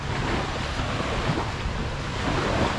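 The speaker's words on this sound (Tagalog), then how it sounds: "medyo mahangin dahil maumaga" Morning wind buffets the deck of a ferry boat at sea, a loud continuous roar of gusts and rushing water with no voices.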